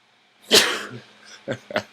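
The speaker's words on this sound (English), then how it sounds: "Forgive me while I sneeze." A single loud sneeze up close, followed by a couple of short sniffs or breaths.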